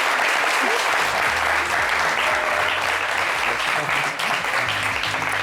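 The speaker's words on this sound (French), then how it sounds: "Monsieur Oscar, applaudissez Monsieur Oscar quand même." An audience at a fashion show applauds loudly and continuously, the clapping thick and sustained with some crowd noise and faint background music underneath.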